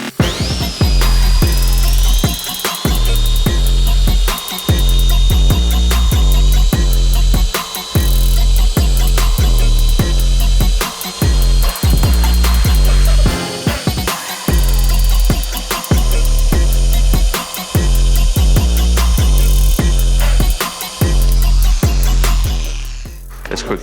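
Rotary polisher running at low speed on scratched Porsche 911 glass during graffiti scratch removal: a loud, steady whine with an unchanging tone, continuous for over twenty seconds, with no talking.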